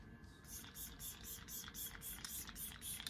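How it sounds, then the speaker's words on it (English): A makeup setting spray mists onto a face in a quick run of short, soft hissing bursts, close and fairly quiet, with no talking. "take that same spray from earlier and use it to set my makeup"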